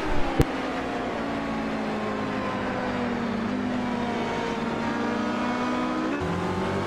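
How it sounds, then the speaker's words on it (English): Ford GT race cars in a racing video game cross the finish line at Spa, with a continuous loud engine drone and shifting revving tones and a brief sharp click near the start. "as Todd Carver crosses the line for the Ford GTs to officially take the win of the Ford GT class"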